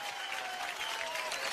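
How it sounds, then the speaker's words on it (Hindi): Steady applause from a studio audience at a television comedy show, continuous clapping filling the whole moment, with a faint tone running underneath. "तो एक बार जोरदार तालियां हो जाएं इस इनिशिएटिव के लिए।"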